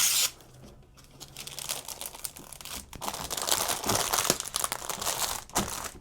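A plastic bag crinkles and rustles up close while a folded youth-size shirt is packed into it, with a sharp tearing crackle toward the end and no talking.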